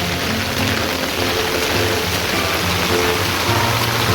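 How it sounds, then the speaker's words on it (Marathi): Heavy monsoon rain pours down steadily on a village, a dense, even hiss of falling water with no voices. "बघा किती फोर्सने पाणी पडत असेल म्हणजे पाऊस पडत असेल"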